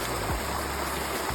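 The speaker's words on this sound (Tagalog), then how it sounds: "Sinasaksak na yung hose para may tubig na sa bahay." Water runs from a hose being fitted to carry supply from a well into a house, a steady rushing flow like a stream, fairly faint and continuous with no talking.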